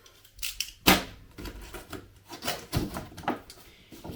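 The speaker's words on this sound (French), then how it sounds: "Je coupe les petits scotch de garantie." Close, crisp snips and scrapes of cutting through warranty tape on an Axial SCX24 Mini Bronco RC car box, a series of irregular sharp clicks with faint rustling between them.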